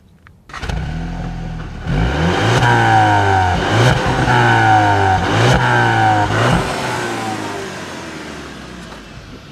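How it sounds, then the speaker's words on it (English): A 2014 Volkswagen Jetta GLI engine starts and revs repeatedly, rising through the gears with a throaty growl, loud and close, then settles back toward idle. "I think it actually sounds like a Subaru Boxer engine from the inside. Kind of has that little growl to it"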